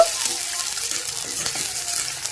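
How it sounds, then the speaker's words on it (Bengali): Chopped onion frying lightly in oil in a wok, giving a steady hiss of sizzling over a short stretch, fairly close and with no voices. "কড়াইয়ের মধ্যে আবার একটু তেল দিয়ে দেব। দিয়ে দেব কেটে রাখা পেঁয়াজ। পেঁয়াজটা হালকা ভেজে নেব।"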